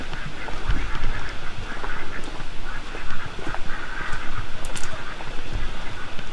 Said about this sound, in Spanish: Pudo haber sido un pato